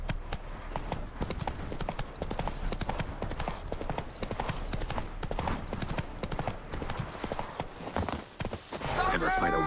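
Roach the horse galloping in The Witcher 3 video game, hooves pounding in a rapid continuous clip-clop rhythm, loud and close, with a brief voice near the end.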